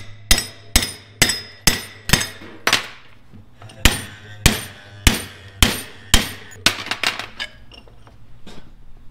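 A hammer strikes a metal piece to bend it before welding. About a dozen sharp, ringing blows land in a steady rhythm, pause once, then resume and taper into lighter taps, close and loud.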